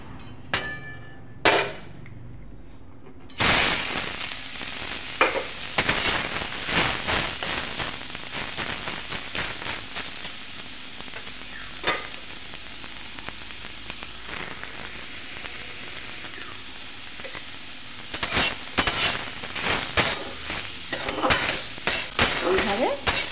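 Banana stem fries in a hot wok with a little oil, giving a continuous close sizzle and crackle after a few sharp knocks of metal at the start.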